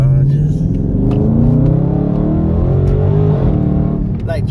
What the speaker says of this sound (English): Like track mode, you know, the exhaust open, so of course it's like deeper